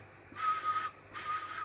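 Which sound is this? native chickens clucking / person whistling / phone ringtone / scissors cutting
person whistling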